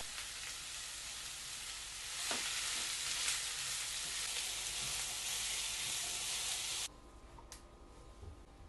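Ginger, garlic and onion sizzle steadily in a hot pan, a dense continuous frying hiss that swells slightly midway before dropping to a quieter simmer near the end, with no talking.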